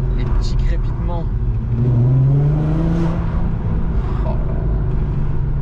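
A Volkswagen Golf 4 R32 engine revs and rises in pitch on a country road drive, with a steady close rumble and faint crackles, while a voice exclaims briefly over it.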